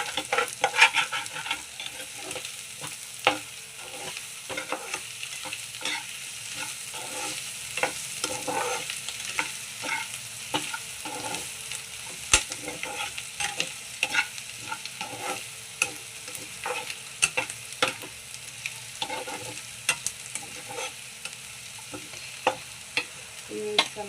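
Potatoes frying with chili powder in a pan, a continuous close sizzle under constant rhythmic scraping and stirring strokes of a spoon against the pan for the whole stretch, with no voices.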